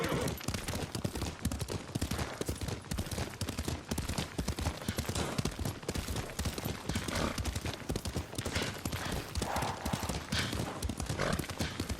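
Horse hooves gallop in steady, rapid clip-clop from a ridden horse in the samurai game Ghost of Tsushima, loud and continuous under a busy mix of game sounds, with a brief whinny.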